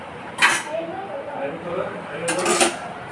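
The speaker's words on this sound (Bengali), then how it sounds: "এই যে ঢাকনা দিয়ে দিচ্ছি।" A metal lid goes onto a cooking pot while homemade sweets are made, giving two bright clanking contacts, one near the start and one later, with a person talking in between.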